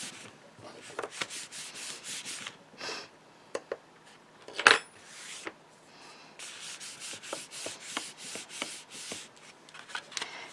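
A paper card is folded down and creased, with close, quiet rubbing and scraping strokes in quick bursts and one sharper snap midway, and no talking.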